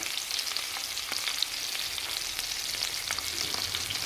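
Lemon butter garlic salmon fries in a pan over medium heat, giving a constant close, crisp sizzle with small crackling pops and no voices.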